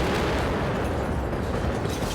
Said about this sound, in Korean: 커다란 폭발음 뒤에 맞은편 건물에서 검은 연기가 뿜어져 나옵니다.